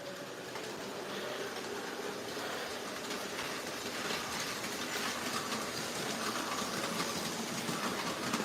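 USA Trains model trains with detailed, populated streamlined cars run on an attic layout late at night, a steady, fairly quiet rolling rumble with light rhythmic clatter and no voices.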